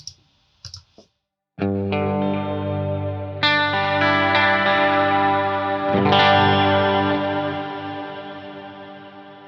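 An electric guitar rings out in sustained, distorted chords through a delay effect set at 50%, each strike followed by a trailing echo that slowly fades; a few small clicks come first.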